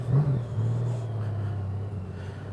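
A 2019 Honda Goldwing motorcycle idles and rolls through a slow U-turn, its low, even engine rumble close by and steady, with a slight swell in the opening moment.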